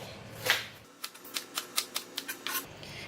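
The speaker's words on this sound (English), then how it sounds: "So bunga kantang or ginger flower, I'm going to cut half, use only half for this." A knife chopping through a ginger flower (bunga kantan) on a cutting board for asam pedas, about nine crisp, evenly spaced cuts after one louder first chop, close and fairly quiet.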